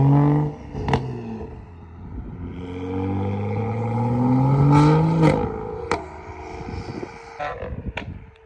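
A tuned manual BMW with a loud aftermarket exhaust and turbo revs up, its engine note rising and falling in long swells, followed by sharp pops and crackles near the end.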